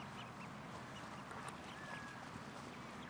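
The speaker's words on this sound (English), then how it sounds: "Whoa, duckies." Ducks quacking faintly in a noisy outdoor setting, a few soft calls scattered over steady background wash.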